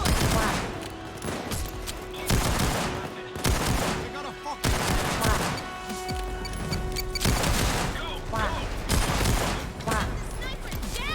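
Gunfire in the shooter game Payday 2, rapid bursts of repeated shots while a sniper is taken down, loud and continuous with a few pauses, mixed with game sounds and voices.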